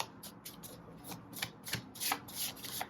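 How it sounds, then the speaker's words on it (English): Tarot cards being shuffled by hand, a close, soft run of rapid riffling and sliding flicks in quick irregular bursts, with no voices. "I'm also like reading the cards as they pop up as I'm shuffling."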